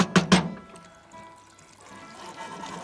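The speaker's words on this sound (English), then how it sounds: "And then we cover the whole thing with water." Water poured into a casserole over tomatoes, taro and meat in a Cypriot kitchen, with a couple of sharp splashes at first, then a softer trickle and fill that fades and swells again.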